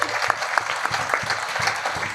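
Brief steady applause from a church congregation at a jubilee celebration, a crowd of hands clapping close and continuous without pause.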